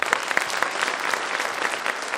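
A packed pandal audience at a Kavi Sammelan poetry recital breaks into dense, sustained applause, close and continuous with no talk.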